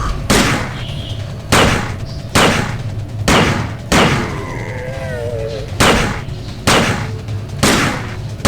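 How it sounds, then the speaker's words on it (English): Pistol shots in the video game System Shock 2 fire as loud, booming single reports roughly once a second, about nine in a row, with a short warbling electronic sound between two shots. "Now, as you can see with pistol 1, your aim is really poor."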